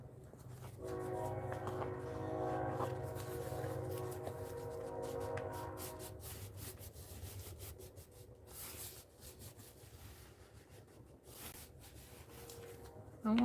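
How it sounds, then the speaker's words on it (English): A passing train rumbles nearby with a sustained horn-like tonal drone over the first few seconds, fading into rattling wheel and car noise, while close paper rubbing and handling sounds continue over it. "There's a train."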